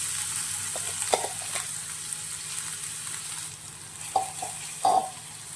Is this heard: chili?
yes